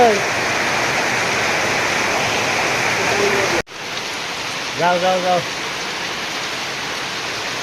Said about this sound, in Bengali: এই দেখেন বৃষ্টির পরিস্থিতি